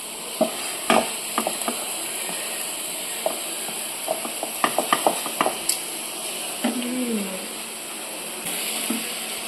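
Tomatoes fry in a pan with a soft continuous sizzle, broken by frequent scraping stir strokes and clinks of a utensil against the pan, close by, with faint voices in the background.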